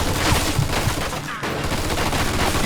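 Rapid automatic gunfire from a machine gun in the Mafia video game, a dense, continuous loud rattle of shots filling the whole stretch with only a brief dip midway.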